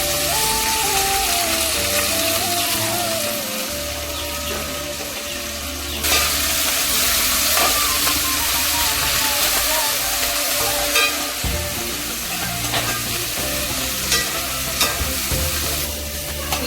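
Onions and fenugreek leaves fry in a pan for chicken curry, giving a loud, continuous sizzle over repeated scraping strokes of a stirring spoon, close up and without speech.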